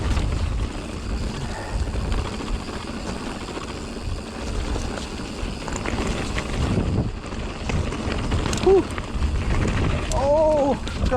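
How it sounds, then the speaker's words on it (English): Strong wind gusting across an open golf course, a constant roaring buffet against the microphone, with someone talking over it. "Oh, gotta go out left there because the wind's pushing me in"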